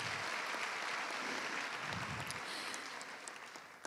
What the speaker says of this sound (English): I think you can give yourself a round of applause for that